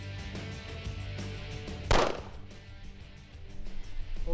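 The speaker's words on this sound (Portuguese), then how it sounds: "No teste também são exigidos disparos com 7 metros de distância." A single loud gunshot cracks out near the middle at a shooting range from 7 metres, standing clearly above a steady background hum, with no talking.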